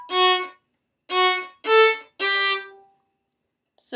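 Violin plays the opening six notes of Allegretto, a few short bowed notes with gaps between them and a slightly longer final note, close, clear and alone.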